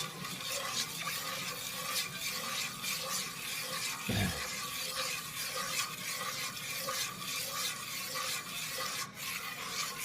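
Thick stove-top play dough being stirred in a pot, a steady scraping and rubbing texture that continues evenly throughout with no talking.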